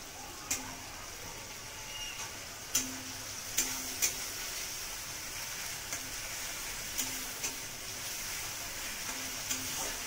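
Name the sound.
spices frying in a pan for katla fish curry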